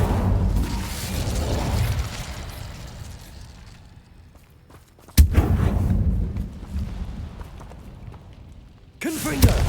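A fire spell cast in the video game Hogwarts Legacy bursts out as a sharp crackling blast, then a roaring rush that fades, with a second abrupt strike near the end, set among dense game sound and some talk.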